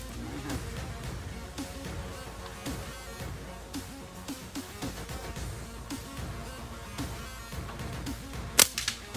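A slingshot fires at mangoes high in a tree outdoors, giving scattered sharp snaps over a busy background of rustling, with one especially loud crack near the end.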